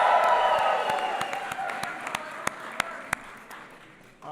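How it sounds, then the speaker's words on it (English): Applause from an audience at a speech marking LGBT Pride Month, a broad crowd clapping that slowly fades, leaving a few isolated claps toward the end. "Give Nancy a big round of applause."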